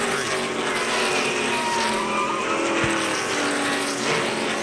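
NASCAR race cars at speed during a crash at Pocono, a dense, continuous roar of engines with tire squeal and skidding, loud throughout with no clear single impact.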